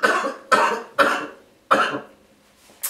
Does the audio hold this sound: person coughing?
yes